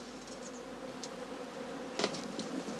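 Bees buzzing around straw skeps in an autumn apiary, a soft steady hum with a few louder buzzes as individual insects fly close past.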